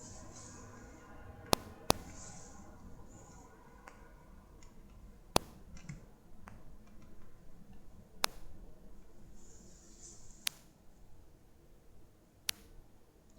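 Computer mouse clicks during an app demo, about ten crisp faint clicks at irregular intervals over quiet room noise.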